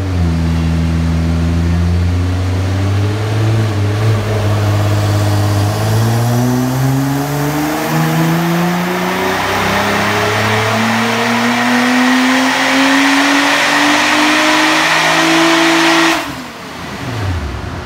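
Nissan R35 GT-R on a dyno, its engine climbing steadily through a long loud full-throttle pull with rising harmonic tone, then abruptly cutting off near the end, alone without talk.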